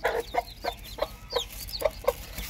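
Hens and young chicks kept penned in winter cluck in short, repeated calls at an uneven rhythm, close by, with faint higher chick peeps between the clucks and no talking.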